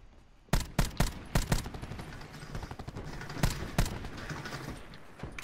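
Scattered gunfire in Call of Duty Black Ops 4 Blackout squads: about eight sharp, loud single shots at irregular intervals over a low rumbling battlefield ambience, with no talk.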